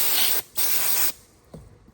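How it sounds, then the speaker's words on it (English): Two bursts of cleaner spray hiss from a nozzle onto a backpack vibrator's pull cord mechanism during repair, each about half a second long with a short pause between, followed by quiet handling noises. "Just spray it real good and put it back on"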